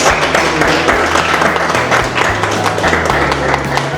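Audience at an international art workshop in Manali applauding, dense steady clapping from many hands with a low droning hum underneath, close and continuous.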